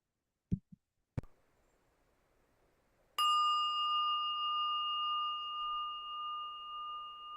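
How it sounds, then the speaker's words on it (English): Two soft taps are followed by a single clear strike of a meditation bell, which rings out in a sustained, pure tone and fades slowly in a quiet room. "Streaming with that ring of the bell into stillness,"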